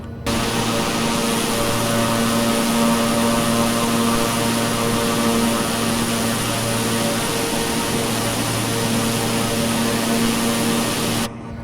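In Microsoft Flight Simulator 2020, an E121A1 aircraft engine roars at takeoff power, a loud, constant droning hum with steady tonal whine, running unbroken without speech until it cuts off abruptly at the end.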